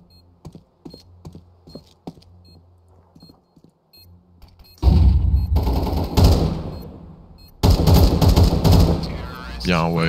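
Rapid gunfire from the video game Counter-Strike 2, first as short separate shots and then as loud, dense bursts of automatic fire, with game effects and speech mixed in.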